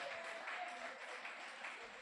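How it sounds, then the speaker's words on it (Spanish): A church congregation applauding for the Lord during a sermon, a dense continuous wash of clapping from many hands, fairly quiet and sustained without pause. "Denle un aplauso al Señor"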